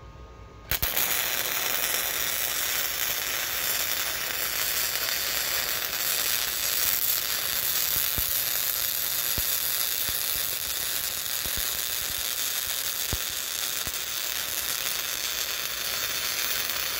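Harbor Freight Titanium Easy-Flux 125 flux core welder running a bead on quarter-inch metal, a loud, continuous crackling sizzle that starts abruptly and holds steady with no talking.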